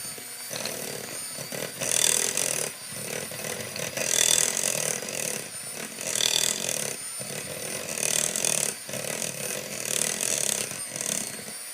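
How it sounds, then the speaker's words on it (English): Electric hand mixer beating brown sugar into batter, a loud, close, whirring motor that pulses in repeated surges with short dips between them. "now we're going to beat in this brown sugar."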